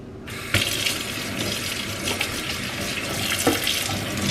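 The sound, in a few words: rinsing polished silver under running tap water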